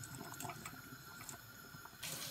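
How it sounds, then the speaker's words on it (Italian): Water pours steadily as cooked spaghetti is drained into a sink, a continuous splashing rush that grows louder and brighter toward the end. "scoliamo la nostra pasta"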